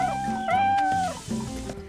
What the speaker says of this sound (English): the pirates in this game really seem to like cats